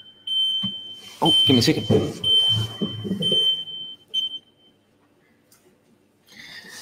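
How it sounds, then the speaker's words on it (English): A CNC machine gives a sustained high-pitched electronic beep, sounding on and off while a person talks over it, with a short final chirp. "The machine was beeping at me,"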